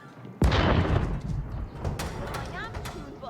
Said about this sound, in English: Cannons are so strong, man.